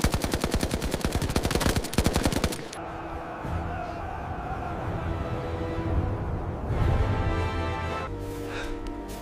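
Machine gun fire in battle: a loud, rapid burst of shots rattles for a few seconds, then stops abruptly, leaving a rumbling, noisy battlefield din with scattered distant shots and a brief burst near the end.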